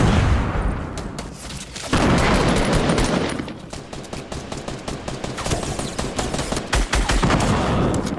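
A purple assault rifle in the video game Fortnite is tap-fired as quick, punchy shots in bursts, loud and close amid dense overlapping gunfire from the match.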